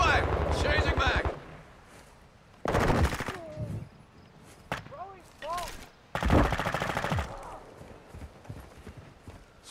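Bursts of automatic gunfire in Call of Duty: Modern Warfare II, several loud rapid volleys broken by pauses, with short game voice callouts and other effects in between.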